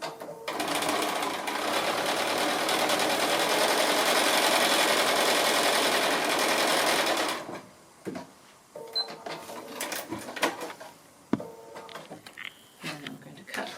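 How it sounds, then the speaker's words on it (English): A sewing machine stitches a long diagonal line across a quilt block, running steadily and loudly for about seven seconds before stopping, followed by quieter handling sounds. "Just sewing on that long diagonal from point to point, and I'll just do that second line while I'm here."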